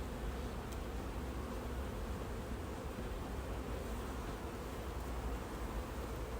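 Honeybees buzzing around an open hive during queen rearing work, a dense, even hum of many insects close by, continuous with no voices.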